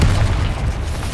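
A Confringo blasting spell from the Hogwarts Legacy video game goes off as a single loud, close, deep boom that rumbles for about a second.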